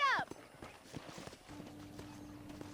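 A whinny opens, followed by scattered horse hoof clops in Red Dead Redemption, while a low steady engine-like hum and quiet voices sit underneath.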